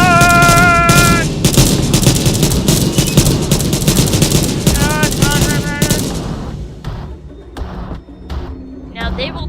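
Rapid bursts of automatic gunfire in the video game SCP Blackout, loud and dense for about six seconds, then fading to scattered shots and thumps, with voices heard over it.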